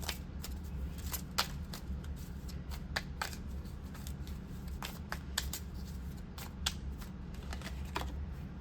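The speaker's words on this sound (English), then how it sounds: "I'm also going to grab one of these empowerment deck cards here from Witch Casket." Empowerment oracle deck cards are drawn and handled in a tarot reading, with soft papery shuffles, slides and light taps scattered steadily throughout, close and quiet with no talk.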